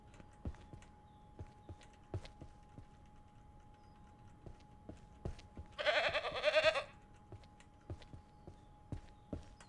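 Goats in the farming video game Ranch Simulator give one loud, wavering bleat of about a second midway, over a steady background of quiet rhythmic clip-clop footsteps.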